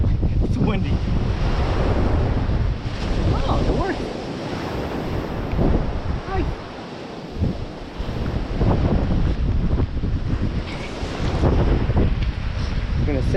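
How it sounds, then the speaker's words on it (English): Strong coastal wind on the Sleeping Bear Dunes buffets the microphone in loud, continuous gusts, with surf roaring behind and a voice speaking briefly. "It's windy."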